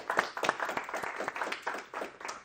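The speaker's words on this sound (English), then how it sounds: "maybe just another round of applause for Jacob" A small audience at a technology-policy talk gives a brief round of applause, a quiet, steady patter of clapping with no voices on top.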